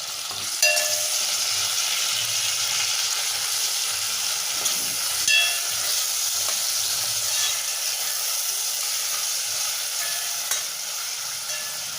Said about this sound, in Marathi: टोमॅटो पण चांगला परतून घ्यायचा